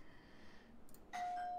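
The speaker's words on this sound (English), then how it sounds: "That was my doorbell." A doorbell rings once near the end, a single sustained chime tone sounding at moderate level in a quiet room during a live-streamed gaming session.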